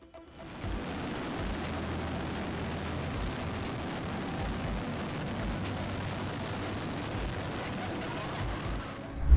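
Dense, continuous crackling and booming of about 7,000 fireworks going off at once, a rumbling barrage from a distance that barely lets up.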